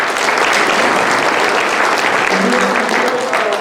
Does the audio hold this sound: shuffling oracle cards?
no